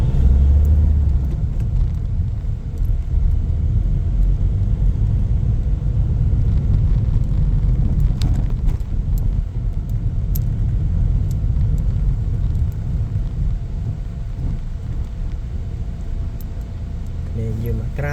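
Low, steady car traffic rumble fills a road trip through Santolan, with engines droning continuously and close, occasional faint higher clicks over the constant road noise.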